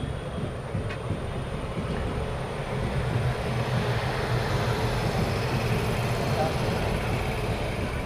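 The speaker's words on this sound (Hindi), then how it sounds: "Udaipur city new Jalpaiguri express के साथ क्रॉसिंग हुई हमारी" An Indian Railways train passes the Udaipur City–New Jalpaiguri Express on a crossing, a continuous loud rumble and rattle of wheels and carriages heard from inside a moving coach, steady throughout.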